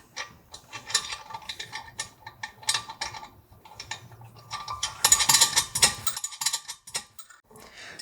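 Nuts being hand-tightened on the shaft seal of a SCHULZ compressor, giving a close run of small metallic ratcheting clicks and clinks in uneven bursts, busier around the middle, with no talk.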